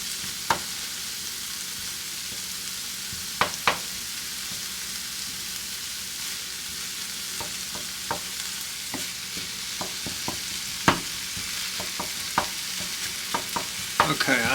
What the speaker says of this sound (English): We'll just saute those a little bit.